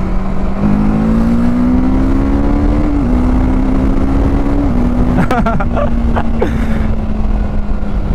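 A TVS Apache RTR 310 motorcycle ridden on a rough road, its steady engine drone holding a low, slowly rising pitch under wind rush, with a few brief sharper mechanical sounds near the end and a voice talking over it.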